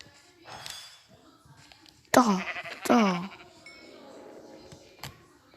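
A sheep bleats in a video game, two loud wavering bleats close together, with faint talk and game sounds around them.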